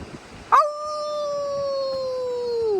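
A voice imitates a wolf howl outdoors on a morning hike in Zion Park, Utah: one long, loud, drawn-out howl that starts with a sharp rising yelp, holds a steady pitch and slowly falls away at the end.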